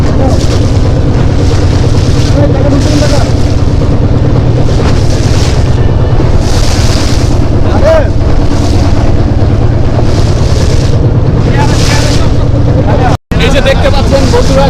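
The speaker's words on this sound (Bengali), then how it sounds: "সবাই এই নৌকা জার্নি করছি হ্যাঁ।" Boat ride on the Shitalakshya river: a loud, constant engine drone and water rush buffeted by wind on the microphone, with swells of noise and a brief dropout near the end.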